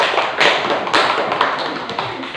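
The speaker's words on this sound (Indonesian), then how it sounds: "Tepuk tangan." Dense applause from a classroom group after a student presentation, a steady wash of clapping close by with a few louder claps standing out.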